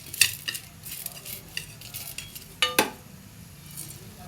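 Yippee noodles with masala powder being stirred in a pan, giving repeated scraping and clinking of a utensil against the metal with a soft sizzle, plus a couple of sharper knocks near the end.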